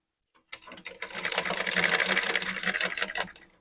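A sewing machine stitches threads for a bridal hand fan with an HA size 16 needle, starting after a few clicks and running in a steady fast whir for about three seconds before slowing.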